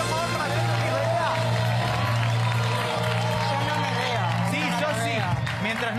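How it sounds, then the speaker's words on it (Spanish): Studio audience applause and cheering on an Argentine late-night talk show set, loud and sustained crowd noise with a strong steady hum underneath, welcoming a guest. "Un aplauso, por favor, para Violeta Tisberé"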